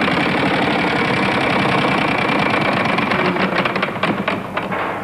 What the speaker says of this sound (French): c'est vous qui allez lancer la roue pour cette 5e partie